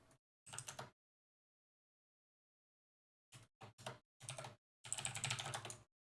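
Keys clatter on a computer keyboard in short separated bursts, one brief flurry, a pause, then several quick runs of typing ending in a longer burst, close and alone.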